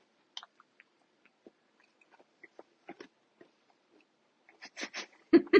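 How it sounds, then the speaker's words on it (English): Raw carrot being chewed close up, a series of small sparse crunches and bites that grow louder and denser toward the end. "You hear the crunch of the carrot?"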